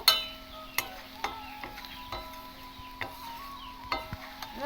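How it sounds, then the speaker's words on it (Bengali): A spoon stirs tilapia fish curry with an onion tempering, giving a quiet, steady sizzle broken by light, regular scraping clicks against the pan roughly every half second. "এবার ভালো করে নাড়িয়ে নেব"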